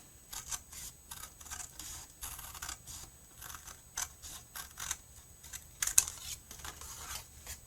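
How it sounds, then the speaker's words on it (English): Scissors snip steadily along a score line through paper close up, a run of short crisp cuts with soft rustling between them and no voices. "I'm going to take my scissors and I'm going to cut away the score line."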